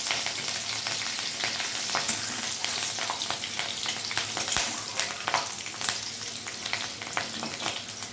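Panch phoron spices fry in hot oil with slit green chillies just added, making a dense, loud, continuous sizzle with crackles and stirring scrapes throughout.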